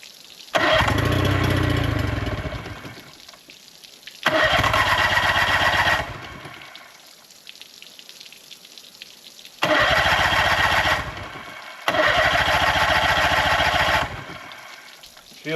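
A boat engine that had sat unused for three years runs in four loud bursts of about two seconds each, separated by quieter rough stretches where it drops back to a low idle.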